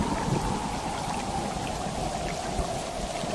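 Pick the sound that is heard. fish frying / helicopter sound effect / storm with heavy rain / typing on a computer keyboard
storm with heavy rain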